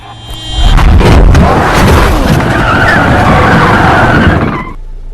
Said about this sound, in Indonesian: membuat Adrian banting setir, sehingga menabrak mobil lain